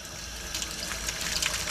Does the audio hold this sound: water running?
yes